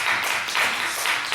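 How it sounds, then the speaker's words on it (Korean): Short burst of congregation applause in a Korean church service, a dense wash of hand claps with a slight swell midway, fairly close and without speech over it. "박수 해줍시다."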